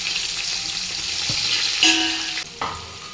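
Onions tossed into hot oil with whole spices for prawn biryani set off a loud close sizzle, with spatula clinks and a sudden burst as more goes into the pan.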